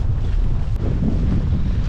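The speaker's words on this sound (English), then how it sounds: "Good evening from a windy, rainy hilltop" Steady gusting wind roars across the microphone on a rainy hilltop on the South Downs near Lewes, a continuous low rumble with soft hissing mixed with rain, and no voices.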